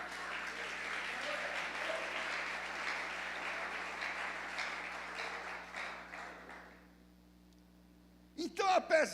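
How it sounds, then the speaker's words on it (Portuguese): Church congregation applauding during a sermon by a pastor: dense, sustained clapping that gradually thins and dies away, followed by a short burst of speech at the end. "Aplauda o Senhor."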